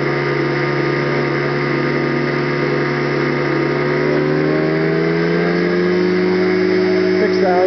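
An aircraft engine and propeller run up after two blades have had their pitch increased by one degree, a loud, close, sustained drone that rises steadily in pitch as the engine speeds up.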